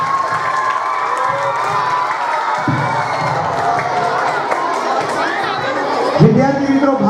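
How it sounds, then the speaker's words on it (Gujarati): An audience at a Guru Purnima school event claps and cheers to welcome guests, a dense, steady wash of applause with children's shouts and chatter mixed in throughout. "આપણે તાળીઓથી સ્વાગત કરી, સન્માન કરી અને બહુમાન કરીને અભિવાદન કરીશું"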